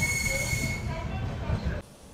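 The Andaman Express with LHB coaches pulls out of New Guntur station. Wheels squeal with a high, thin whine over a steady rolling rumble, then the noise drops off abruptly near the end.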